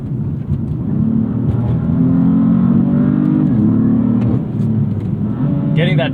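A 2016 BMW M3 F80 engine pulling hard through gear shifts, a loud droning rumble rising in pitch, briefly dipping at a shift and climbing again, heard from inside the car with occasional voice.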